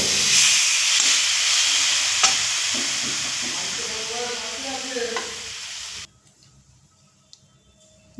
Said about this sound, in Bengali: নারকেল আমি সব কড়ার মধ্যে দিয়ে দিয়েছি